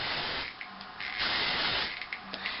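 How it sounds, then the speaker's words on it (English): Hair spray misted through hair during a big blow-dry styling session in a salon, heard as several short close hissing bursts with brief pauses between them. "I'm just going to spray this through."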